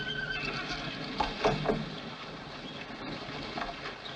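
A horse whinnies briefly mid-clip against a busy background, with a few soft hoof-like clops and faint ambient noise around it.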